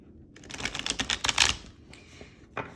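Tarot cards are shuffled by hand in a quick riffling burst, soft crisp flutters building to a peak then a few lighter taps, close and alone without speech.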